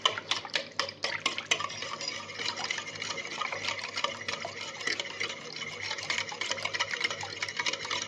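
Orange cake ingredients whisked by hand in a bowl, a steady rapid clatter of whisk strokes against the sides with a wet batter swish, close and continuous without any voices.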